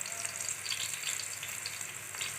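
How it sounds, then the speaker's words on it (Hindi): Potatoes and cumin seeds fry in a pan with a dense, continuous sizzle and soft stirring sounds, close by and with no talk. "इन्हें थोड़ा सा हम फ्राई करेंगे ज़ीरे के साथ"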